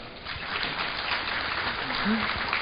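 An audience at a panel talk on malware analysis claps in a steady, dense round of applause, moderately loud and close, with no talk over it.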